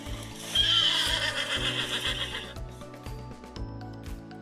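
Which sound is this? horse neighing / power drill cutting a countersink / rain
horse neighing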